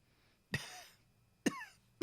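A person coughs three times, the first a longer harsh cough with a raspy tail, followed by two sharper single coughs, close and alone in a quiet room.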